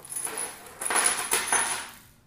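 Plastic and metal parts clatter in a bag as an IKEA HÄLLAN locker hardware pack is opened, bright jingling rattles in a few quick bursts over about two seconds, close and alone.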